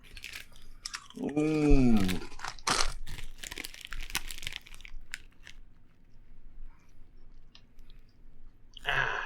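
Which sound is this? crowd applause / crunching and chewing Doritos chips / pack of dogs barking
crunching and chewing Doritos chips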